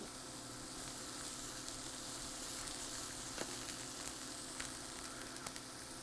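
Fish browning in a hot pan for a gluten-free baked fish dish gives a steady, fairly faint sizzle that holds without a break, with a few light clicks and pops near the end and no talk.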